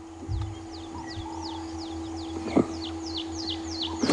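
A red-crested korhaan calls in the bush, giving a rhythmic series of short, sharp downward-sweeping notes that repeat steadily and build slightly, set over a constant low engine hum from a safari vehicle.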